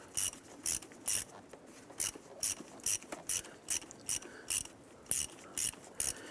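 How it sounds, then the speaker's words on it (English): A ratchet with a 10mm socket and extension loosens a hose clamp on the air intake hose of a 2009–2015 Honda Pilot, giving close, crisp bursts of clicking in a quick, regular back-and-forth rhythm. "Using a 10mm socket and extension, we're going to go ahead and loosen this hose clamp right here."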